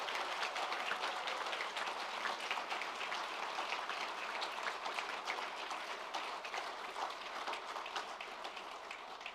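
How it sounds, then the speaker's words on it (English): Massive round of applause for graduates at a virtual graduation ceremony, a dense steady wash of many hands clapping that holds evenly, slightly fading toward the end, with no talking. "I'd like you all to honor everyone again with another massive round of applause."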